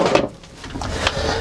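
A wooden drawer below a cedar-lined closet in a 2019 DRV Mobile Suites luxury fifth wheel slides open or shut, close and fairly loud, with a couple of quick knocks and a rumbling glide.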